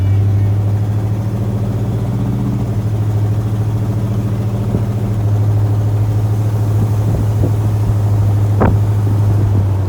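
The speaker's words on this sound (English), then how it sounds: "Has a great exhaust system. Sounds really, really nice going down the road." A 1970 Oldsmobile Cutlass 442 replica cruises down the road, its exhaust a steady, loud low rumble heard from inside the car, with a few faint clicks and creaks over the drone.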